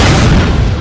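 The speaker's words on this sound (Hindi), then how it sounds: "सीजे एक गैस टैंक को जलाकर उन ज़ॉम्बीज में फेंक देता है और उसे शूट कर देता है, जिससे एक बड़ा सा धमाका होता है" A shot gas tank explodes among zombies in a film, a loud, dense, full-spectrum boom filling the whole brief moment.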